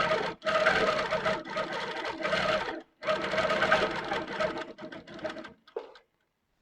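A longarm quilting machine stitches a thread build-up on a quilt section, running in steady close bursts separated by brief pauses before falling silent near the end.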